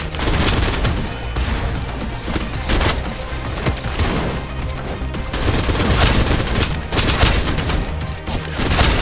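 Gunfire in the shooter game Snowbreak: Containment Zone, with dense rapid bursts and repeated sharp shots crackling continuously and loudly throughout.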